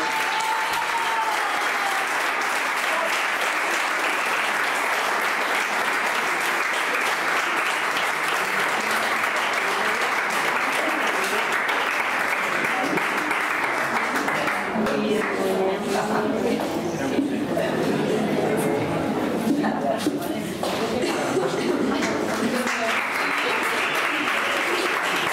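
A large crowd at a town festival in Marcilla applauds loudly and continuously for about twenty-five seconds, with faint voices and cheers mixed in.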